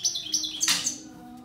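A goldfinch hen sings a short burst of bright, rapid chirps and twittering trills, close and fairly clear against a quiet background.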